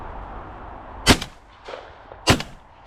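Two sharp shotgun blasts fired at pigeons in an open field, about a second apart, each loud and cracking with a short echoing tail over quiet outdoor background.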